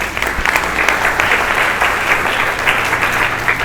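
A church congregation at an evening service applauds in praise, a loud continuous wash of many hands clapping with uneven bursts throughout.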